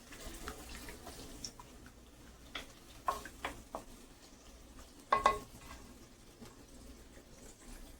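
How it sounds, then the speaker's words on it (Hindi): Goat liver being stirred and mixed in a pan: quiet, scattered clicks and scrapes of a spoon against the pan over a faint sizzle, with a couple of louder knocks near the middle, no talking. "इसको अच्छी तरह से आप मिक्स कर लें।"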